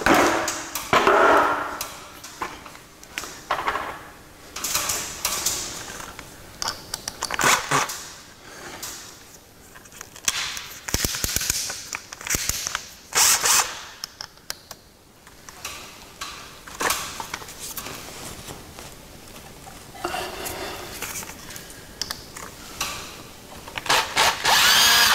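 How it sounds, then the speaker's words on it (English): Screws driven with a power driver during installation of a Buck model 91 stove, repeated whirring bursts with clunks and knocks of parts being handled, close and fairly loud throughout. "All right, now I can start screwing them in."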